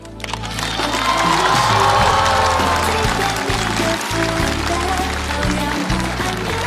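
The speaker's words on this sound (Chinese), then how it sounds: "让我们掌声有请" Studio audience applause and cheering at a Chinese variety show, a dense, loud wash of clapping that swells and holds for several seconds with scattered shouts mixed in.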